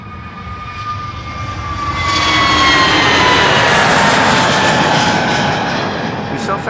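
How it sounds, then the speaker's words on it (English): A KLM Airbus A321neo jet airliner bound for London City passes near at Amsterdam Schiphol, its engine roar swelling loud with whining tonal lines sliding down in pitch, then holding strong. "This is an A321neo from KLM going to London City."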